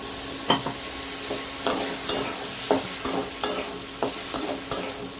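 Ginger fries in a pan with a splash of water, giving a steady close sizzle broken by regular, evenly spaced scrapes of a stirring spoon.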